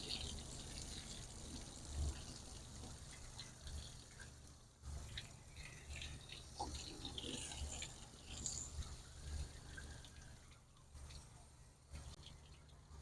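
Water sprayed onto the dusty condenser coil of a 15-ton LG packaged AC unit, a steady close hiss and splatter running throughout, with faint low hum and muffled voices underneath.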